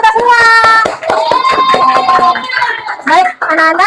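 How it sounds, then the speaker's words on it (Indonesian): A classroom of children claps together at the end of a lesson, sharp hand claps mixed with loud chanting and singing voices that dominate much of the moment. "Tepuk tangan untuk kita semua."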